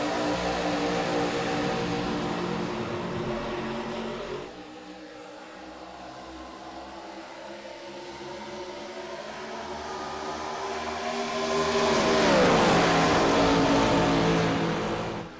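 IROC race cars on a green-flag restart at Atlanta, with engines droning and revving loudly as they slowly build speed, a brief dip in the middle, then a louder car sweeping close past with a falling pitch near the end.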